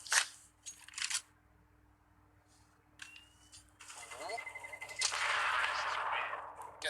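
Bursts of rifle spray in a Counter-Strike esports match between NIP and Team Herectis, with short sharp shots early, then denser rapid gunfire building toward the end, heard alongside game effects.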